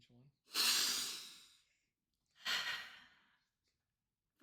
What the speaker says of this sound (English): take a deep breath between each one